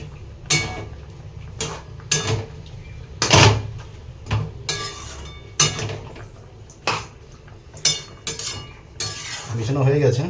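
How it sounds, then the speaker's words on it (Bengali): Raw mutton is mixed with spices in an unheated pot, with irregular scraping, clinking metal strokes and knocks against the pot's sides, close by. "এখনো গ্যাস ধরায়নি কিন্তু, এমনি মিশানো হচ্ছে।"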